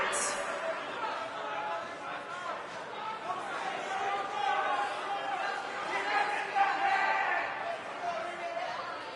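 A large indoor arena crowd at a wrestling event murmurs and chatters continuously, a dense wash of many voices with occasional louder swells, echoing through a big space.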